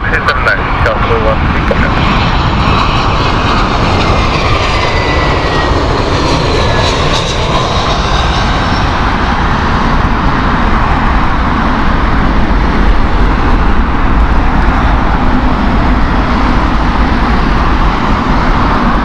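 A British Airways shuttle airliner at Heathrow roars steadily and loudly throughout, with a voice talking over the engine noise.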